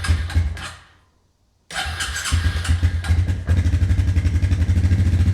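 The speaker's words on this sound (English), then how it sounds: "So let's see if it starts up, runs like it should and like it used to." A Suzuki Ozark LTF-250 ATV engine cranks over with the choke on, falls silent for a moment, then catches and settles into a loud, close, rapid chugging idle that steadies into an even pulse.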